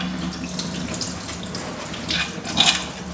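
Coolant draining from disconnected hoses on a Camaro engine, a steady close trickle and splash of liquid with a brief louder gush near the end, no talking.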